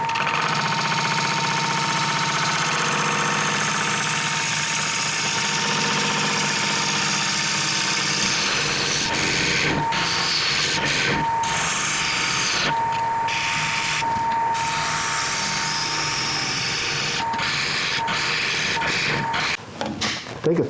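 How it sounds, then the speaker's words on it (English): Wood lathe at about 900 RPM with a 5/8-inch bowl gouge cutting an odd-shaped log into a wide-rimmed bowl, giving a loud, continuous roar and hiss with steady motor hum and shifting tone as the cut varies. "About 900 RPM and a 5/8 inch bowl gouge."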